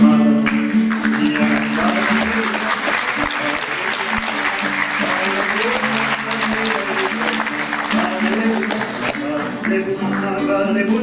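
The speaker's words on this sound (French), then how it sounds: "vous pouvez applaudir les bouts en train" A theatre audience claps at length, the dense applause staying loud and even for the whole stretch, with no voices rising above it.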